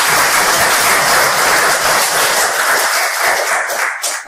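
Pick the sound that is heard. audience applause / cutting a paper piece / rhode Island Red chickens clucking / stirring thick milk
audience applause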